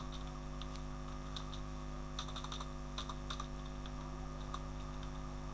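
Light, scattered keystrokes on a computer keyboard while an email is typed, soft irregular clicks in short bursts over a steady electrical hum.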